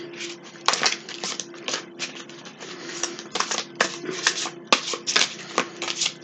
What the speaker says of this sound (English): I'm going to shuffle it on camera.